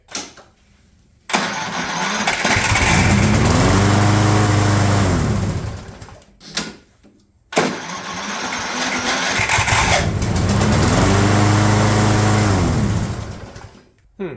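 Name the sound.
Craftsman Platinum lawn mower engine cranking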